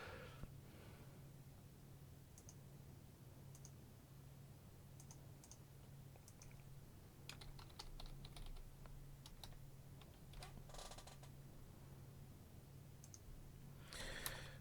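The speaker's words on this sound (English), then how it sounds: "while I'm doing some typing up, I can do some talking" Someone types on a computer keyboard, with quiet scattered clicks in uneven bursts over a low steady hum and occasional breaths.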